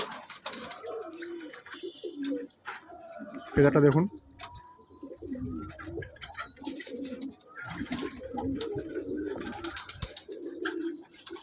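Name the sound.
Taki pigeon cooing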